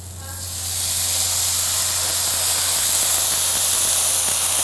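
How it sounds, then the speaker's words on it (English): Pork chops sizzle loudly in a hot pan as vinegar hits it, the hiss swelling within the first second and then holding as a steady, close, bright frying noise. "Got that sizzle going."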